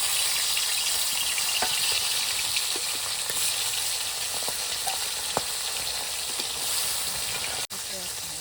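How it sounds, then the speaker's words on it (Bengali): Fish fry in hot oil in a wok, a loud, continuous bright sizzle with occasional pops and one sharp clack near the end. "তো কড়াই গরম হয়ে গেছে মাছগুলো ভেজে নিচ্ছি আমি"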